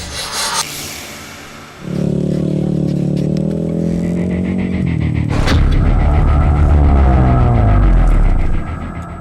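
Rally motorcycles racing through the Dubai Baja desert, with a loud, close engine drone that rises in pitch as a bike accelerates past and holds steady at high revs before cutting off sharply.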